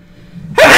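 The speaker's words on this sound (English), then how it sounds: "Well, that was a sneeze," A single sharp sneeze bursting out close and loud after a brief quiet intake of breath.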